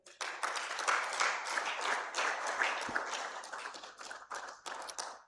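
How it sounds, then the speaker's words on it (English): An event audience at a project report and dashboard launch claps continuously to welcome the Deputy Speaker of the Akwa Ibom State House of Assembly, a thick, lively patter of many hands that swells and dips slightly. "Please let's keep clapping, you know"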